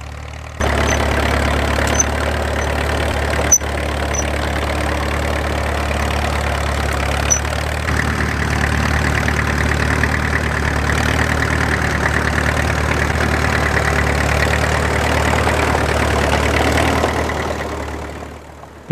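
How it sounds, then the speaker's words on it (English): A TD6 tractor pulls a Martin Markham cultivator at a working tractor show in Nottinghamshire, its engine chugging loud and steady at close range for the whole stretch before tailing off at the end. "It's good to see this TD6 at work, with a Martin Markham cultivator made in my hometown of Stamford."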